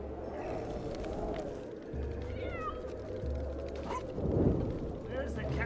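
A cat meows in Lego Marvel Super Heroes 2, giving a couple of short, rising mews in the middle of the clip over steady game music and background rumble.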